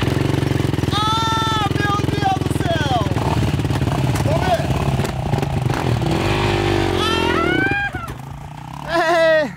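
A quad bike that sat unused for a long time, freshly fuelled and with a new clutch, runs loud and close with an uneven, misfiring engine note while someone talks over it.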